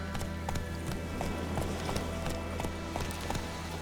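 Roach, a horse in the video game Witcher 3, trots with crisp, evenly spaced hoof clops over a steady low hum, close and clear throughout.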